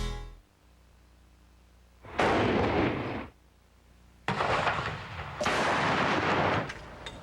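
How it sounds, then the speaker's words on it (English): Ceremonial gun salutes honoring President Ronald Reagan in June 2004: several heavy booming blasts, each with a long rumbling tail, sound at uneven intervals over quiet outdoor ambience. "gun salutes rang out across the country in honor of President Ronald Reagan"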